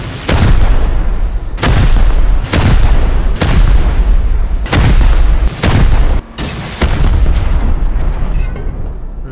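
Rocket and explosive blasts pound a tank in the survival video game Rust, with six or seven loud booming detonations arriving at fairly regular intervals, each followed by a rumbling decay.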